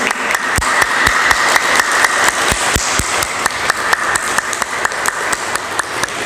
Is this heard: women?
yes